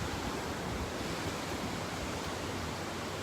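Ocean surf at the Juno Beach pier, heard as a steady, broad wash of breaking waves and rushing water with a little wind, constant and fairly loud throughout with no talk.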